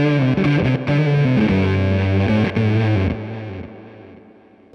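Electric guitar played through a Zipper Fuzz pedal with the volume turned all the way up, giving a loud, thick, buzzy fuzz tone over a few sustained notes that gradually choke and fade at the end.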